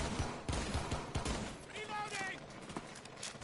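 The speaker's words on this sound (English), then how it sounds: "Oh, they shooting back." Rapid video-game gunfire rattles in quick bursts through the first half, loud and close, then thins out while game sound effects and a voice continue underneath.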